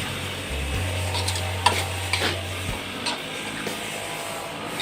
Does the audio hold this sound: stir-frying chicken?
yes